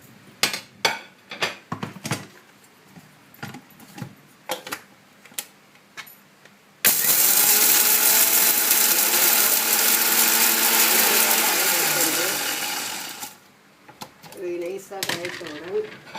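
A kitchen mixer grinder runs loud and continuous for about six seconds, grinding dried chillies, urad dal, asafoetida, tamarind and salt, with clattering clicks and knocks before and after.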